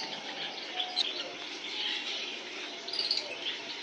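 Lovebirds at a bird farm keep up a steady, busy twittering of overlapping high chirps, fairly close and continuous, with a few brighter calls standing out from the flock.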